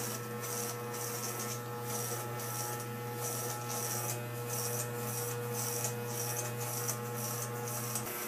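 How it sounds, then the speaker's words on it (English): An electric hair clipper runs steadily during a military-style haircut with a half guard extended, giving a constant close buzz with a rhythmic, pulsing hiss as it passes through hair, and no talking. "with the clipper still running"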